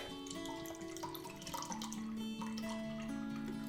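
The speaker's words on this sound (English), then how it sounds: "you're going to want to pour your Guinness Stout into your drink" Guinness Stout being poured into a glass for an Irish Car Bomb, a continuous close liquid trickle and gurgle under a bed of steady background music, with no talking.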